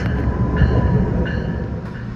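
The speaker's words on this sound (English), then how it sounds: "Got a couple of trains approaching." A Metra Electric commuter train approaches Kensington station at 115th Street, a steady rumbling rail roar that holds fairly loud throughout, with faint higher squeals or tones rising briefly above it.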